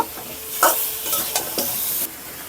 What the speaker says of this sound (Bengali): এবার এই মশলার সাথে এগুলো দিয়ে ভালো করে একটু নেড়েচেড়ে মিশিয়ে কষিয়ে নেব